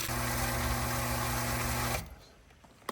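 A 1.6 horsepower stainless steel water pump motor hums with a loud, steady whine for about two seconds, then shuts off and spins down into near quiet, ending in a brief click.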